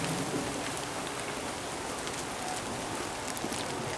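Steady rain falls outdoors, a dense, even hiss of drops on surfaces that stays constant and fairly close for the whole stretch, with no voices.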